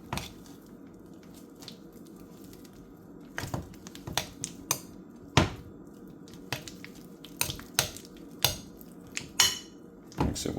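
Pumpkin cheesecake pancake batter being mixed in a bowl, a spoon or whisk clinking and tapping against the sides in irregular wet knocks and scrapes, close and fairly quiet.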